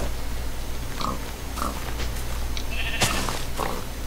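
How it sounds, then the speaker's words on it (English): Minecraft pigs grunting and squealing in short bursts over a steady low game hum, several brief calls spread across a few seconds with no talk. "I'm killing pigs."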